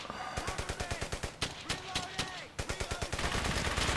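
Rapid gunfire from the World War II video game Brothers in Arms: Hell's Highway rings out as loud, dense bursts of repeated shots, with a brief pause midway before the firing picks up again.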